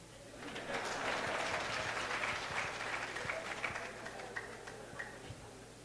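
A crowd at a regional education and leadership congress claps for a speaker, a steady, moderately distant patter of many hands with a few voices mixed in.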